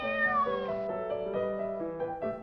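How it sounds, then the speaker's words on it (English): A cat meows repeatedly in a drawn-out, wavering, tonal cry that rises and falls over a couple of seconds, close and clear with no talking. "He saves cats up trees."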